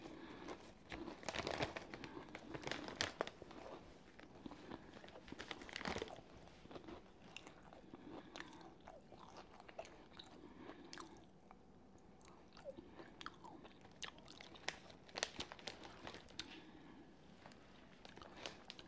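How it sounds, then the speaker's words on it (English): Lay's cheddar jalapeno potato chips crunched and chewed close to the microphone, a steady run of crisp bites and munching with no talk. "A little munch and crunch."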